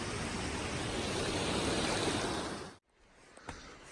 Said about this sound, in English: Ooh, Loud River.